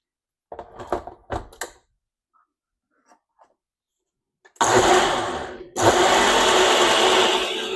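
A blender whirs loudly, mixing a lime and basil marinade in two long bursts after a pause, following a few brief taps and clatters near the start.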